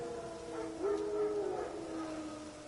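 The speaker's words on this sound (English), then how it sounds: "Wild dogs. Yes. More dangerous than wolves." Wild dogs howl in The Witcher 3, a few faint, drawn-out wavering calls that sound distant over a soft ambient background, with nobody speaking.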